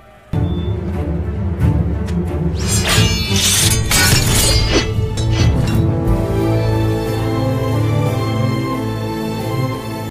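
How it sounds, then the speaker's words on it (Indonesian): A sword shatters during a fight scene in the Indian epic film Baahubali: The Beginning, a loud crashing burst that rises suddenly and sustains with bright clattering debris over a dense, continuous score that carries on after the impact. "Katapa pun menunjukkan keahliannya dalam bertarung dengan pedang dan membuat hancur pedang Aslam"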